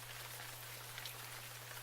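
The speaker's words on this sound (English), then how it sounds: "I love the sound of rain at night." Rain falls at night in a continuous soft patter and hiss, quiet and steady with a low constant hum underneath and no voices.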